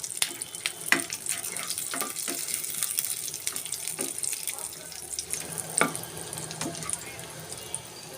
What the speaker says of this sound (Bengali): এগুলোকে আমি হালকা একটু ভেজে নিব, যেহেতু এগুলো কাঁচা।